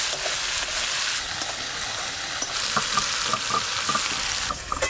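Mustard paste sizzles hard in a hot pan with kalo jeere tempering and turmeric, a steady loud frying hiss with stirring clatter throughout, cooked for a Bengali mustard hilsa curry.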